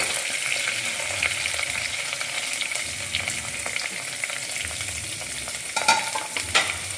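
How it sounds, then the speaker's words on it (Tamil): Sliced onions sizzling in hot oil with curry leaves for beetroot salna, a bright, continuous frying hiss with spatula scrapes and stirring knocks growing busier toward the end. "வெங்காயத்தை ஆட் பண்ணிட்டு நல்லா மிக்ஸ் பண்ணி விட்டுக்கோங்க"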